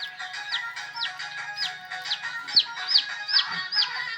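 Chickens make repeated short, high chirping calls in a quick rhythm, close and clear, with a faint low knock partway through.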